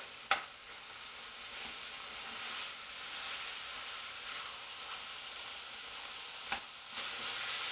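Ground beef sizzles and crackles steadily in a hot pan, with a couple of sharp scraping knocks from a drainer spoon chopping it up.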